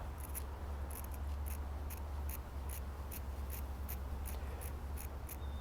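Scissors cut ribbon for a Christmas door swag in a quick series of close, crisp snips, about a dozen in a fairly regular rhythm over a low background hum, with no talking.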